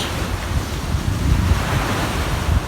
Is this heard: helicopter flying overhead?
no